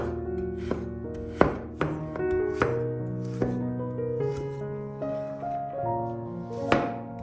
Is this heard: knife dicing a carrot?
yes